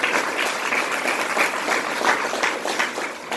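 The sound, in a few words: round of applause for board president Tim Jens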